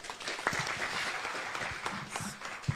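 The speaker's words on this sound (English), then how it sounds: "Let's clap for her." An audience claps at a Kenyan conference event addressed by President Ruto, steady crowd applause of moderate loudness running throughout with a few sharper individual claps.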